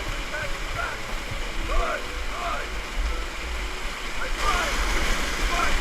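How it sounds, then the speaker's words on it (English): Steady roar of rushing water from a waterfall during a canyoneering descent, a broad continuous wash close around, with voices talking faintly beneath it. "I'm in the middle of a waterfall."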